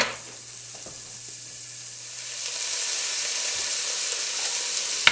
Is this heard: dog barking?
no